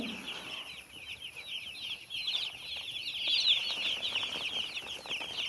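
A dense chorus of many newly arrived chicks under a 100-watt brooder light peeping nonstop, high and shrill, a steady crowded twittering close by.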